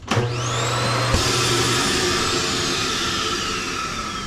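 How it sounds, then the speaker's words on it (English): A built-in central vacuum in the living room of a 2025 Alpha Wolf 33BH-L travel trailer switches on with a click and runs as a loud, steady whine close by, with no voices over it. "Over here in the living room, you will see it has the road vac. You just sweep up your dirt here."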